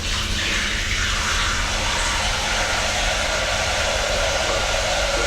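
Hot water runs from a farm kitchen tap in a steady, loud, continuous rush that fills the whole moment without pause.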